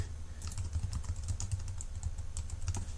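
Steady typing on a computer keyboard, a quick run of light clicking keystrokes close to the microphone with no talk.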